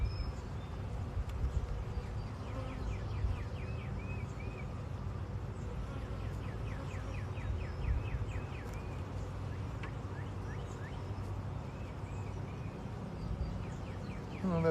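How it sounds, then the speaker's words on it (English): Honeybees buzz around a hive during a three-week hive inspection on a farm, a continuous low droning hum that stays steady throughout, with faint bird chirps in the background. "Oh, that bee's got a lot of pollen."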